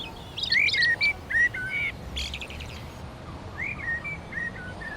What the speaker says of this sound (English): some birds are singing their dawn chorus in the middle of the